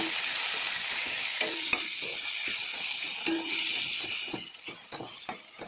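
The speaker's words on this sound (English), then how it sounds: "So we have to keep stirring it, make sure it doesn't get stuck to the bottom." Raw mango and sugar jam bubbling in a pan is stirred over medium heat, with a continuous sizzle, soft spoon scrapes and occasional clinks that grow sparser toward the end.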